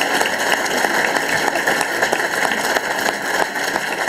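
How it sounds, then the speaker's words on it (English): Loud, dense applause from a trade union congress audience in Scotland, a continuous roar of many hands clapping at once with no break. "Let's hear it for June, please,"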